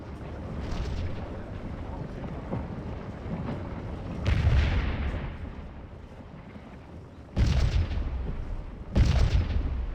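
Rifle volleys in the Civil War video game Scourge of War Gettysburg: a rumbling battle bed broken by several loud booming bursts of fire, a voice heard faintly at times.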